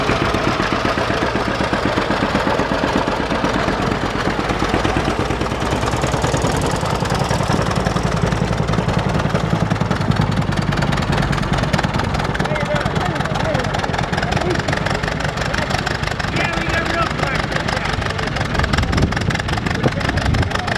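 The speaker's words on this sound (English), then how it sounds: "Adam Schneider on a John Deere Model B." A John Deere Model B tractor engine idling close by, with a steady low chugging pulse that runs unbroken under heavy wind noise.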